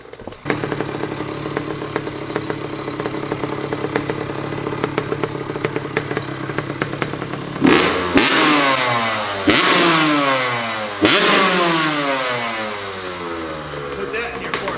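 A brand-new Honda CR85 two-stroke dirt bike idles with a busy crackle, then blips through three sharp revs that climb and fall back, loud and close, with speech heard faintly beneath.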